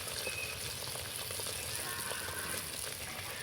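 Ripe mango batter for pakon pitha frying in medium-hot oil in a kadai, a continuous close, bubbling hiss that holds steady throughout with no talking.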